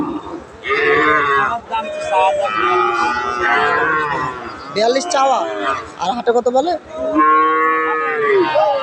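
Cattle at a village livestock market where Friesian and crossbred heifer calves are sold, with loud, close, drawn-out moos repeating one after another while people bargain nearby.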